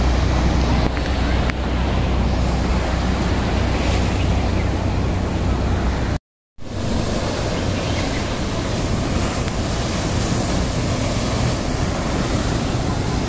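Strong ocean waves surge and wash at a seaside beach where beginners surf, a loud continuous roar with heavy wind buffeting the microphone, broken by a brief dropout midway.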